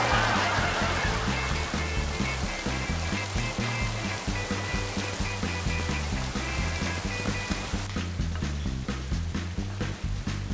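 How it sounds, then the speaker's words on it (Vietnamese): Heavy rain comes down in a loud, dense, unbroken roar of splashing water, close and steady throughout, with no speech over it. "Mưa dữ lắm hả?"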